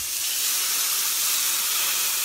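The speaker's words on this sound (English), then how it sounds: "Hear that sizzle?" Loud, steady hissing sizzle of teriyaki northern pike steaks cooking on a hot grill, continuous and close with no talking.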